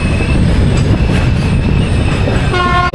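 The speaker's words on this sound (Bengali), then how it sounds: "আমাদের ট্রেন এখন পানাগড় জংশন ছেড়ে দিল।" A passenger train pulls away from Panagarh Junction, its steady loud rumble of wagons and wheels filling the scene, with a horn-like tonal sound rising near the end.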